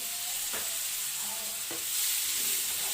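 Mutton frying in a pan for Hyderabadi tala huwa gosht, stirred after lemon juice goes in: steady close sizzle with two distinct stirring scrapes, swelling slightly louder toward the end.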